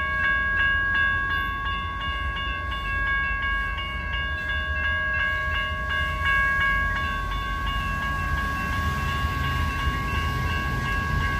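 A train on the Portland and Western Railroad at the 6th Street crossing rumbles loudly and steadily, with the electronic crossing bells ringing in rapid repeated chimes over the first half and sustained tonal notes carrying on throughout.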